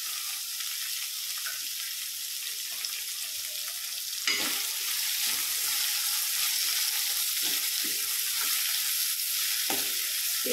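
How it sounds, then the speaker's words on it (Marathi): Sliced bitter gourd (karela) frying in hot oil in a pan, a steady loud sizzle that swells midway as the pieces are stirred, with soft scraping throughout. "तेलामध्ये आपल्याला छान असे कारले भाजून घ्यायचे आहे थोड्या वेळासाठी।"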